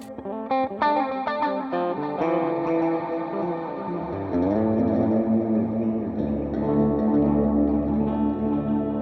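A PJD St. John Elite electric guitar plays saturated, distorted tones through effects with chorus and echo, opening with a few sharp picked notes before settling into sustained, ringing chords that wash together and fill the space.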